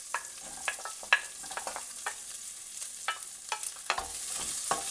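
Onion, garlic, dried red chili and ginger sauté in a pan, a soft continuous sizzle broken by repeated spatula scrapes and light taps, close but fairly quiet.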